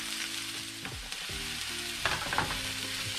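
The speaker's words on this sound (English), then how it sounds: "Nice good sizzle. My pan is hot, the grease is ready" Onions sizzle in hot grease in a pan for steak jalapeño poppers, a close, steady frying crackle with a few low clunks and scrapes as they're stirred.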